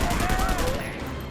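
Assault rifle fire in a video game shooter, aimed at heavily armored enemies: a dense, rapid, continuous rattle of shots, loud and close, running the full length without a break.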